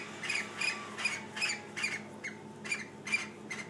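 Pet birds calling in a home, a rhythmic series of about ten short, sharp squawks at fairly even intervals, moderately loud and close, with no talking over them.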